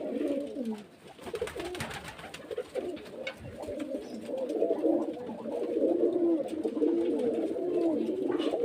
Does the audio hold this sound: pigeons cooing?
yes